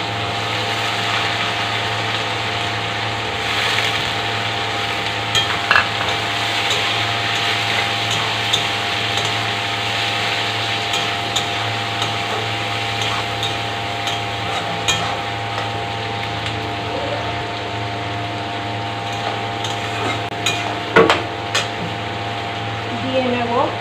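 Onions frying in a pan for Bihari egg curry, a steady dense sizzle running unbroken throughout with a low constant hum underneath and occasional small clicks of stirring.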